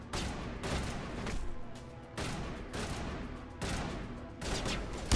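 Rapid bursts of gunfire in a Mass Effect firefight, several dense volleys following one another with brief gaps, loud and close, with no talk over them.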